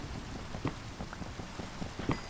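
Lava rain falls steadily in the Nether in a modded Minecraft game, a faint, continuous patter of drops with scattered sharper hits throughout.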